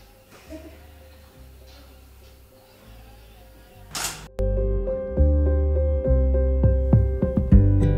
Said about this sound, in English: I put my shutter on a 2-second timer, so the camera is also very still after I press the button.